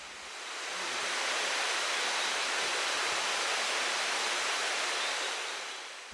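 A river rushes beside a forest trail in Sumatra, heard as a loud, steady, broadband roar that swells in over the first second and holds continuous without a break, with no voices.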